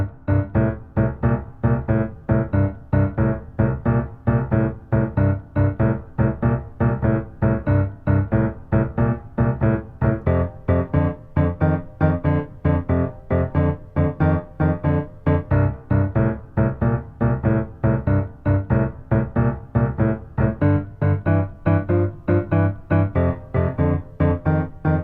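Solo piano plays a steady, driving blues pattern over a full 12-bar blues progression, an even repeating left-hand rhythm with chords on top, loud and continuous with no voices.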